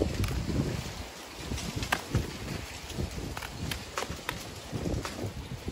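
Gusty wind sweeps across an open cabbage farm in Kuwait, a steady broadband rush with rising and falling gusts and scattered rustling and thumps close to the microphone.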